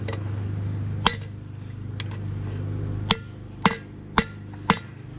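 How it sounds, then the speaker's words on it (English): A hammer drives a bearing race onto a Kenworth truck spindle, with six sharp metallic strikes at uneven intervals over a steady low mechanical hum and no talk. "we're going to go ahead and drive this race in, and then we're going to set it on the spindle"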